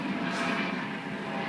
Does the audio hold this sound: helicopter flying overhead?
yes